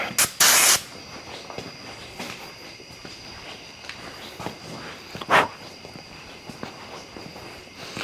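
A short, loud hiss of PB Blaster penetrating oil sprayed from an aerosol can, then a quieter stretch of faint clicks and shuffling before a second brief spray burst.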